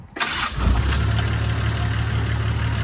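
A turbocharged Nissan S13 engine cranks and catches, then settles into a loud, steady low rumble up close with no talking.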